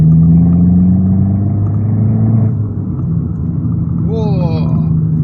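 Abarth car pulling hard in third gear, its mid-pitched engine drone loud and steady at first, then easing back as a voice talks over it near the end.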